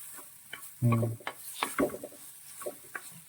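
Masala paste for a river-fish (aattu vaala) curry sautéing in a pan, heard as a few close stirring scrapes with a brief loud burst of sizzle, no talking.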